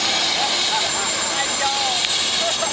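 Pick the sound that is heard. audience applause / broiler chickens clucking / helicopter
helicopter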